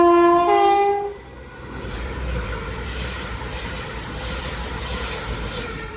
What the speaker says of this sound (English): Got a glorified 319 making its way into Wigan Wallgate